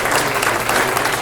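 Audience applause at a book party celebrating author Patti Ashley, a short burst of dense, steady clapping from a room of guests, fairly loud and continuous with no break.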